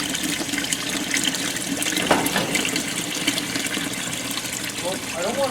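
Water gushing steadily into the tub of a GE washing machine, a continuous close rushing flow with a person talking over it.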